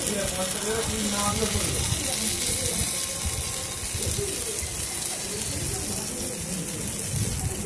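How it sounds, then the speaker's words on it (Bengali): A batter-dipped slice of bread frying in hot oil for a spicy vegetarian bread toast, giving a steady, close, dense sizzle that runs unbroken throughout. "আমি আবারও একটা পাউরুটি দেখুন এই তেলের মধ্যে ছেড়ে দিলাম। ব্যাটারে চুবিয়ে তেলের মধ্যে ছেড়ে দিলাম।"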